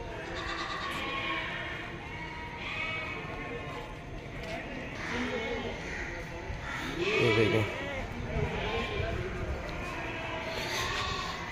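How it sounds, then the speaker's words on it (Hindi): Goats at a busy livestock market, bleats rising here and there under someone talking over constant crowd chatter and background bustle, one louder bleat near the middle. "ये भी खस्सी बकरा है"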